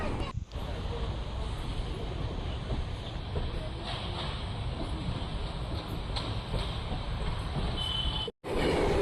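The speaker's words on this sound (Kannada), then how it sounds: "ಪ್ಲ್ಯಾಟ್ಫಾರಮ್ 10ರಿಂದ ಡಿಪಾರ್ಚರ್ ಆಗಿದೆ ನಮ್ಮ ಟ್ರೈನ್." A train pulling out of platform 10 at a Bangalore station gives a steady, close, loud rumble of wheels and carriage noise that runs almost unbroken, with one brief dropout near the end.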